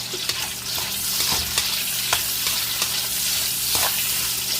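Sliced onions frying for chop suey sizzle loudly and steadily in a pan, with regular stirring scrapes and utensil knocks cutting through the continuous hiss.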